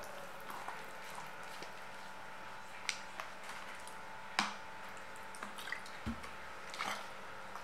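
Plaster being mixed with water in a container, soft wet squishes and drips in an irregular rhythm, faint and close with scattered small splashy accents.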